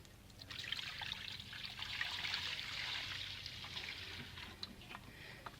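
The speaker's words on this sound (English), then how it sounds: "Grab your oil pan, which is off the motor, pour in some petrol." Petrol poured into a removed engine oil pan from a Toyota 1MZ-FE V6, a steady close trickle of liquid running without a break, with small splashes and drips over the flow.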